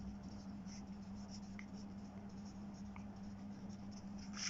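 A pen or pencil scratches across graph paper while drawing a bar chart, a faint close scribbling in short strokes over a steady low hum, with no voice.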